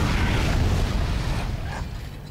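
Heavy explosion in the sci-fi horror video game Dead Space, a loud sustained rumbling blast that fills the whole moment and slowly fades, with no voices over it.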